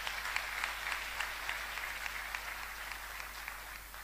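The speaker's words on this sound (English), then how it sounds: "I think he deserves a round of applause." A crowd at a university convocation lecture and chancellor installation breaks into steady applause, many hands clapping at a distance in a large hall, sustained without pause for the full stretch and fairly faint.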